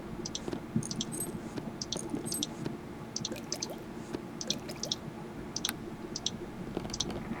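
Item sound effects in the Neverwinter Nights inventory, small clicks and soft squishy, dripping taps repeating in quick irregular clusters, fairly faint over a low background hum.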